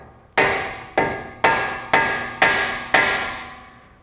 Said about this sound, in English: we're just gonna hammer this corner in right here to fit it into that groove